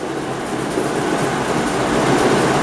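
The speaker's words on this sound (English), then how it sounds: "I must show you in the background here the engine is running" A restored 1934 Herkules engine idling at around 500 RPM on its first start-up, still not fully adjusted, giving a loud, continuous mechanical drone that holds steady and swells slightly toward the end.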